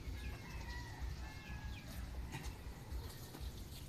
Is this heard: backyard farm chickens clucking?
yes